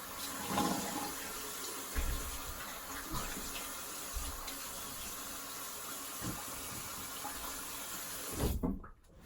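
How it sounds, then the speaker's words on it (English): Running tap water pours steadily over a straight razor being rinsed, a close continuous rush with a few louder splashes before it cuts off near the end. "I'm just gonna rinse."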